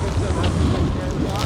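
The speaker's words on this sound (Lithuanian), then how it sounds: "Vėjo gūsiai." Strong gusts of wind roar steadily across a snowy mountain slope during a freeride outing, a dense, continuous rush of noise buffeting the microphone.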